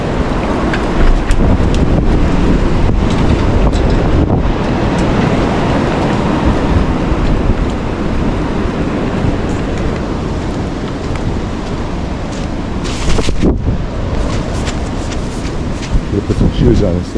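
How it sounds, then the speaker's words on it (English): Strong wind buffets the microphone outdoors with loud, continuous roaring gusts, and a voice speaks briefly over it. "Wow, it's freaking windy out there."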